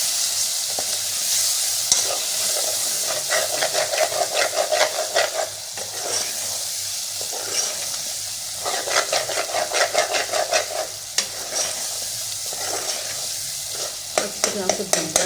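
Nigella seeds and dry coriander roast in a hot pan, crackling and sizzling loudly and steadily while a utensil scrapes and stirs in repeated bursts, with no talking.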